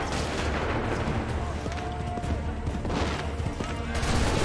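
Cannon and musket volleys crack and rumble in the video game Assassin's Creed III, with dense, overlapping battlefield blasts at moderate loudness and shouted commands in the mix.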